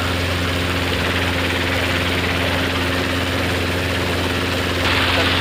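An R22 training helicopter runs with a steady, loud rotor and engine drone throughout, heard close from inside the cabin, where the sound is continuous and unbroken.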